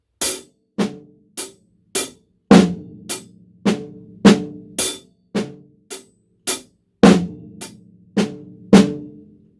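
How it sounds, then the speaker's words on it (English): Paradiddle on a drum kit with the right hand moved over to the hi-hat, accents kept, sounding as a steady pattern of crisp separate strokes, some louder than others, played alone up close. "simply just move the right hand over to the hi-hat, maintaining those accents"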